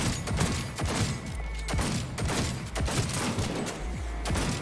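Gun in Cyberpunk 2077 firing continuously, with a dense stream of loud, close shots and deep booming low-end hits every second or so, no talk.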